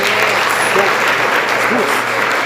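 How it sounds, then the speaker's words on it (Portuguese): A church congregation clapping for the Lord at a seminar, loud dense applause filling the room with voices calling out over it. "Palmas ao Senhor"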